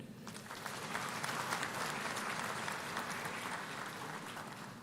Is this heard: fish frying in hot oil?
no